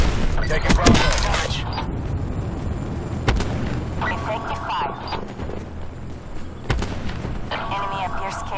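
Gunfire and explosions in the video game Call of Duty: Black Ops 4, with sharp blasts near the start and at about the third and seventh seconds over a steady battle din, while radio-style voices talk intermittently.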